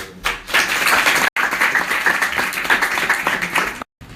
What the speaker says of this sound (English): Et surtout un énorme applaudissement pour monsieur.